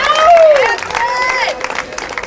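Wedding guests break into applause and cheering for the groom's mother, a close, loud crowd burst with whoops and clapping that fades over a couple of seconds.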